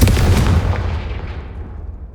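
A Confringo fire spell from Hogwarts Legacy detonates with a single loud, close boom that decays into a rumbling tail.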